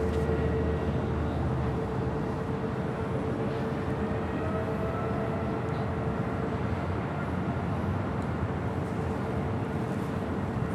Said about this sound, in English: Japan Airlines flight 61 heading to Tokyo Narita on a 787-8